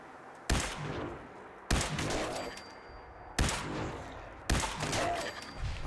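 Gunfire in Fallout 4 using switched, stronger ammo: four loud, separate shots spaced about a second apart, each with a sharp crack and a ringing tail, heard alone.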